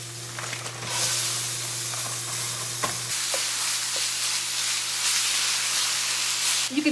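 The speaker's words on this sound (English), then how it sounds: "The next step is to get my ground turkey all browned up." Butterball ground turkey browning in a smoking-hot cast iron pan, a loud continuous sizzle and hiss with occasional stirring scrapes, heard close with no talking.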